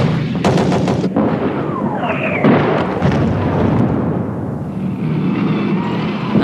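Archival war footage of a Scud missile barrage launch: loud roaring rocket thrust and booming blasts, with sharp cracking bursts and a rising whine through a sustained, harsh rumble.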